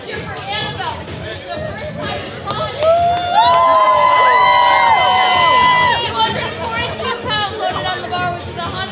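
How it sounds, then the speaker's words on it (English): A gym crowd at a Miami lifting event cheers for Annabel's bench lift, with excited shouts and whoops rising over steady chatter and holding strong through the middle before easing back into crowd noise. "we're all gonna cheer for Annabel"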